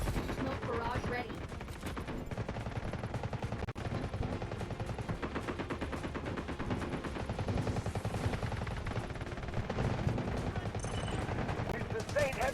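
Gunfire and an artillery barrage fill a Delta Force video game battle, with dense, continuous rattling shots and blasts at a moderate level throughout.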